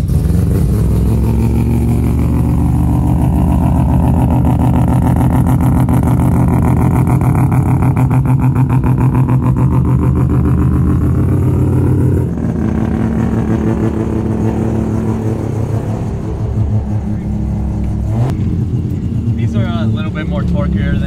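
A triple turbo three-rotor widebody Mazda RX7 rotary engine idles and revs in a loud, continuous, buzzy drone with a brief dip midway and close-up blips near the end, with voices talking over it.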